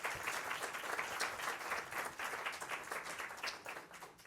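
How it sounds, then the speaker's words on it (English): An audience gives sustained applause after a presentation on Dr. Martin Luther King Jr.'s legacy, a dense, even wash of many hands clapping at steady volume throughout, with no speech. "Let's go ahead and give him one more round of applause."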